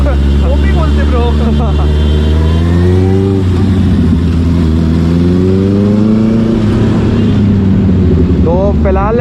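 A superbike engine revs up and eases off in rising and falling sweeps, loud and close. Voices talk over it throughout.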